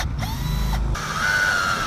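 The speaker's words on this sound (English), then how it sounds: "Time for the drilling." A power drill bores a hole in PVC for a boat trailer guide, giving a loud, steady close-up whir with a grinding mechanical texture. The motor tone shifts partway through the cut.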